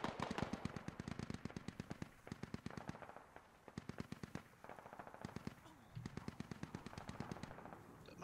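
Rapid bursts of automatic gunfire in a squad-based military shooter game, repeated volleys of machine-gun fire with short pauses between them, loud and sharp with faint voices talking over them.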